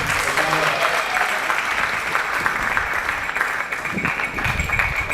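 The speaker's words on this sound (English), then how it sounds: "I think they deserve a round of applause so far." A seminar audience gives a round of applause, dense steady clapping that fills the whole stretch at an even level, with faint voices mixed in underneath.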